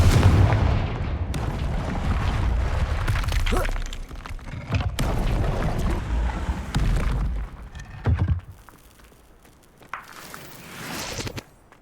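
A Confringo blasting spell explodes in Hogwarts Legacy, heavy booming blasts rolling loudly through a dense battle soundscape, with further impacts and crashes fading toward the end.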